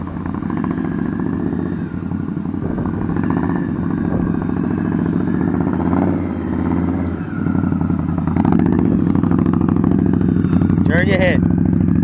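Motorcycle ridden slowly during low-speed clutch and throttle practice, its engine giving a steady, loud, close rumble that rises a little near the end, while a person talks over it.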